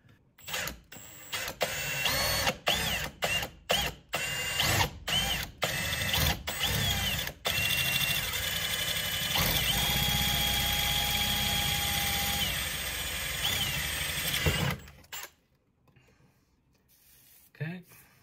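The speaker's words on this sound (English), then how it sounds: "I'm going to drill here." A drill bores holes into a plastic waterproof electronics enclosure, whirring in a long steady run after a series of short bursts, loud and close, then fading to quiet.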